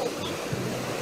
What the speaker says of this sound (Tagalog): Lakas ng alon to.